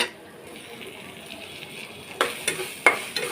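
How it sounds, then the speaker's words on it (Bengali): Dried fish paste frying in oil hisses softly in a pan while it is stirred, with a few sharper scraping clatters of the utensil toward the end. "আর কিছু সময় ভালোভাবে নেড়ে চেড়ে ভেজে নিব।"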